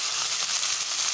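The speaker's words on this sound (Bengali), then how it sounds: "জিরে গুঁড়ো মিশিয়ে একটু নেড়ে নিন ভালো করে" Cumin and coriander powder sizzle loudly in a hot pan for a Bengali prawn and bottle gourd dish, a dense, continuous hiss close up with no pauses.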